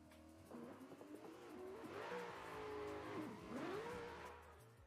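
Drift cars revving hard in a video game tandem battle, with engine pitch climbing and swooping while tires squeal continuously for several seconds, loud and close.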